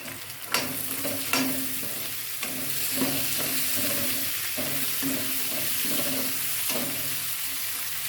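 Turkey berries (sundakkai) sizzle in a hot pan for sundakkai thokku while a spoon scrapes and stirs in repeated strokes, with a few sharper clinks near the start.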